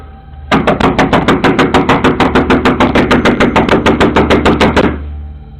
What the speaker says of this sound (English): we see a man furiously banging on a door